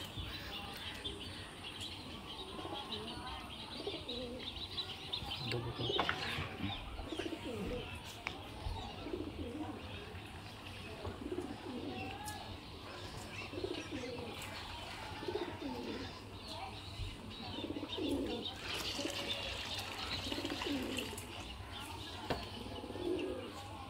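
Tumbler and Rampuri pigeons kept together coo repeatedly at close range, with soft chirps and occasional wing flaps. Someone talks throughout over the birds.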